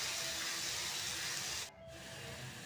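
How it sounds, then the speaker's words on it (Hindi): Onion puree sizzling as it fries in a hot pan, a steady broadband hiss that runs loud and unbroken and then briefly dips before settling back into a slightly quieter, continuous sizzle. "अब इसमें हम प्याज का प्यूरी डाल देते हैं"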